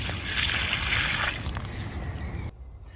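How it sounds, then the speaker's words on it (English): Water is poured out of opened water bottles by a riverside, a continuous splashing trickle that cuts off abruptly near the end, leaving quieter background. "unscrew the lids, and I empty all of the water out"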